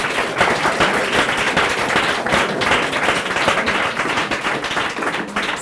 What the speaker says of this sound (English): We have to clap for them.